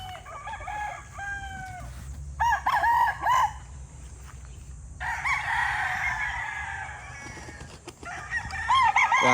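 Gamefowl roosters crow several times, close and loud, their calls overlapping and answering one another with short gaps between, over low farmyard background noise.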